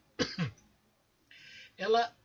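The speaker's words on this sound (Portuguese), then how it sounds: "isso é uma tosse" A short, throaty cough sounds once, two quick rough bursts close to the listener, followed by a brief hiss and a voiced exhalation.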